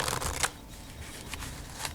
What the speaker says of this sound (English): They handle well, they shuffle nicely, they spread